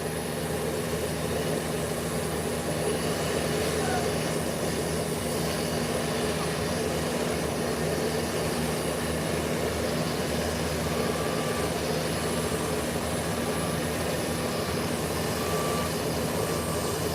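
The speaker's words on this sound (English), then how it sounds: "Eastern air is now being pushed back. Getting ready for departure." An airliner is pushed back by a tug for departure on an airport ramp, heard as a steady, loud broadband jet engine roar and whine that holds constant throughout with no talk.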